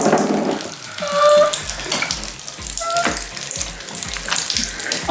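Popping candy crackles and fizzes in a mass of slime being mixed, a steady wet sizzling with soft squelches as hands work it, fairly close.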